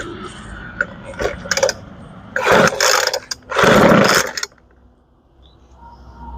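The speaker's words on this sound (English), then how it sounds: "we're on full choke, pumped it 6 times." A gas leaf blower with a new carburetor and fuel lines, on full choke, is pulled several times, giving short rough sputtering bursts that die out without catching.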